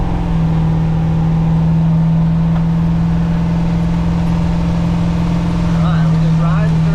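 Vehicle engine pulling up a highway ramp while its transmission runs hot, a steady droning hum that builds slightly, loud and close under someone talking.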